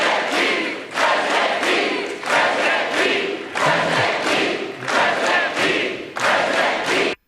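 Recorded crowd at a political rally for presidential candidate Pete Buttigieg cheering loudly in sustained waves, with a few short dips between surges and a sudden cutoff at the end.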